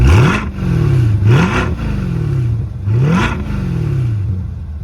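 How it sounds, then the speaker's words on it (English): Factory exhaust on a Chevrolet C8 Corvette revved in a tire garage, recorded about four feet from the car: three loud, sharp throttle blips that climb quickly and fall back to idle between them, with no talking. "So that's what the factory exhaust sounds like."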